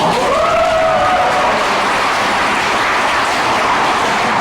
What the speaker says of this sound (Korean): 이때 박수가 나와요.